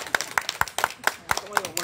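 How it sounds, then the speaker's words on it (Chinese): A small group claps in a quick, even rhythm to welcome a speaker at a talk on ecological pig farming, with sharp, closely spaced claps over a murmur of voices. "掌声欢迎一个小蔡大哥"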